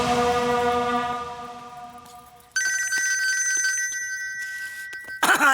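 A telephone rings loudly and close, a sustained electronic bell tone that shifts to a higher repeating ring pattern partway through, with no talk over it.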